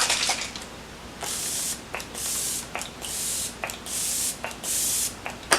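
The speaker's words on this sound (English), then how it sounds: "I'm going to use the Flower Beauty Seal the Deal Long Lasting Matte Finish Setting Spray" Flower Beauty Seal the Deal matte finish setting spray misted in five or six short, close hissing bursts separated by brief pauses and soft handling noises.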